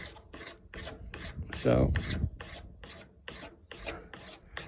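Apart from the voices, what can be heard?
razor blade scraping '79 Yamaha MX100 front fender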